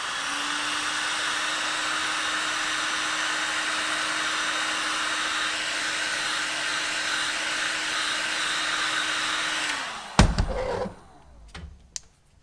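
A heat gun shrinks heat shrink tubing during wiring prep on a Kawasaki KLR 650 adventure bike, with a loud, steady blowing whine and a constant tone for about ten seconds, then it cuts off, followed by a few nearby clunks and knocks.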